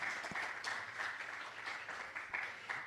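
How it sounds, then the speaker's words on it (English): Light, scattered applause from a conference audience welcoming a session speaker, soft and somewhat distant clapping with a few sharper individual claps, continuing evenly for a few seconds. "Maybe a little applause."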